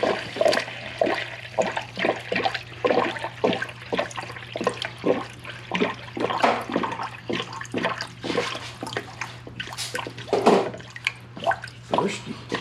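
Water is poured into the radiator of a 2005 Toyota Sequoia, making close, irregular gurgles and splashes with a low steady hum underneath.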